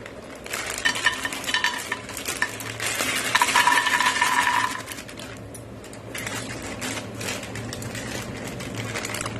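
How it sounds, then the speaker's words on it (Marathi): Dry fruits stir-roasting in a pan for dink laddu, with a continuous soft rustling and scraping of a spoon against the metal that swells in the middle and carries on steadily, with no talk over it. "हे ड्रायफ्रूट आहे ना भाजून घेणार आहोत."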